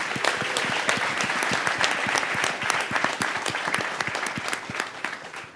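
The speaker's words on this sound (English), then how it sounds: "So once again, a round of applause for XO House." An audience at the HXOUSE launch panel breaks into applause, a dense burst of many hands clapping close together and loud throughout.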